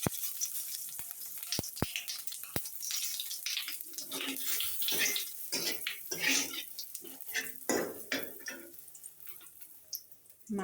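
Cumin seeds crackle and sizzle in hot oil for tempering a moong dal with fish head, sharp ticking pops at first, then a bubbly spattering hiss close by.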